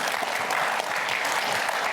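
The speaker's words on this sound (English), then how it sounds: "How about a round of applause for these two, for those answers?" Audience applause at a live podcast taping at the IAAPA 2022 expo, a dense, steady burst of clapping from a crowd that fills the whole moment.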